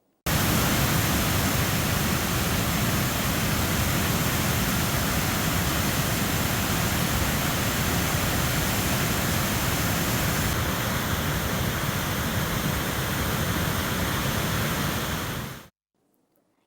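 Heavy rain pours steadily for over an hour in Periyakulam, Theni district, heard as a dense, loud, unbroken hiss that runs continuously and then cuts off abruptly.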